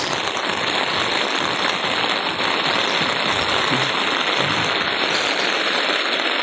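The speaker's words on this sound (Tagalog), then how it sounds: "Lakas ng ulan." Heavy rain pours steadily in Daet, a dense, loud, continuous hiss of water on surfaces with no break and no talk over it.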